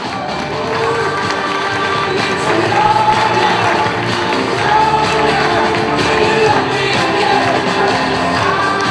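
An audience at a slam poetry event cheers and claps for a poet, a dense, loud crowd roar with shouts and whoops that holds steady throughout, with no clear speech.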